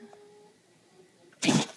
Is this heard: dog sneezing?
yes